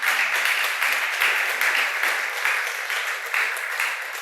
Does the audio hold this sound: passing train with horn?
no